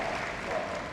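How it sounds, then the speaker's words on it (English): Audience applause fills a Crufts dog agility arena, a dense, steady patter of many hands clapping at close range with faint crowd noise beneath. "Let's give him a big round of applause."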